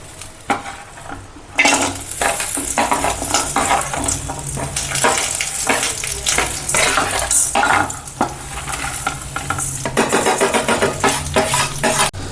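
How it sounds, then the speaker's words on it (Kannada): Spices fried in a spoonful of oil for a village-style chicken curry, with loud continuous sizzling and repeated metal spoon scrapes and clatters against the pan, close up and no talking. "ಸೊ ಇವೆಲ್ಲ ಸೇರಿ ಒಂದ್ಸತಿ ಫ್ರೈ ಮಾಡ್ಕೊಳ್ಳೋಣ ಹಾಕ್ಬಿಟ್ಟು"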